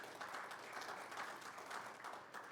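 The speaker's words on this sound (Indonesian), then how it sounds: "Tepuk tangan." Congregation applauding during an Indonesian church service, a dense even wash of clapping from a large crowd throughout, heard at some distance and fairly faint.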